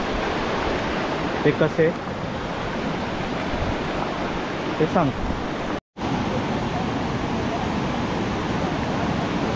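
A monsoon-fed stream rushing over its bed, a steady broadband wash of flowing water, with a voice speaking briefly over it and a short cut to silence partway through.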